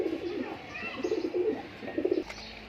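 Pigeons in a loft give soft, throaty coos in short repeated bursts, with faint chirps and a little background murmur between them.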